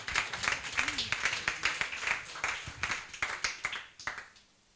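A church congregation claps in a steady rhythm, loud and close, with voices singing or calling out alongside the clapping and the beat fading near the end.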